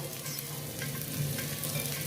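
Poha (flattened rice) tipped into a frying pan of hot oil sets off a steady, fairly faint sizzle with soft stirring scrapes, continuous for a couple of seconds with no talk.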